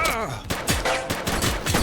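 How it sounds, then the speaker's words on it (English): Rapid gunfire bursts in the cop video game The Precinct, a dense volley of overlapping shots cracking close and loud for the whole stretch. "Someone's shooting at us!"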